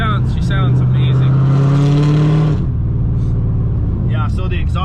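Up close, a supercharged LS V8 in an Infiniti G35 with long-tube 1 3/4-inch headers and 3-inch true dual pipes roars through one sustained, rising rev. The rev cuts off abruptly, leaving the engine idling, with people talking at the start and finish.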